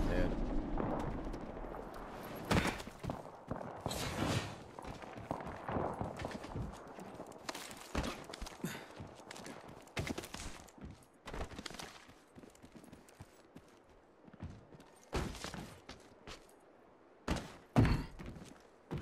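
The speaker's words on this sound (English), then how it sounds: "A second squad is firing at us." Enemy squad gunfire in Apex Legends, sharp irregular bursts of shots cracking out repeatedly over about nineteen seconds, some loud and close, others fainter, with gaps of quieter ambience between them.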